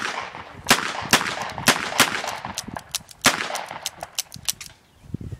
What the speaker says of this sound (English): I wanna shoot more.